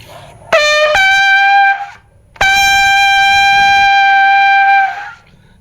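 Two sustained brass notes, a short blast then a longer held one after a brief gap, played loud and close with a bright, buzzy bugle tone.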